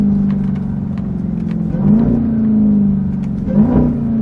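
A Dodge Durango Hellcat engine blipping through downshifts while driving, a steady low rumble lifting in two short revving swells, heard from inside the cabin with no talk.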